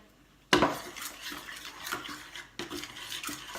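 A pan of chocolate melting on a stovetop is lifted off the heat with a sharp metallic clank, followed by softer scraping and clinking of cookware, then a second knock near the end.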